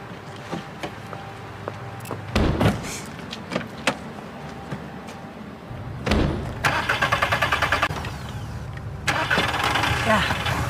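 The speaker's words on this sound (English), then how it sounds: "Shirl, I'm gonna give you one of my handbrake turns" A car engine starts and revs during a handbrake turn in a TV drama scene, with door and mechanical clunks, rising engine roar and a rattling buzz, mixed with people talking.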